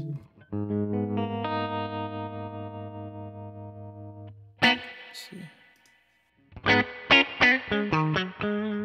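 Electric guitar played through a Universal Audio amp plugin with a boost engaged: sustained ringing chord held for several seconds, then a short burst and a run of sharp, driven picked notes, loud and close.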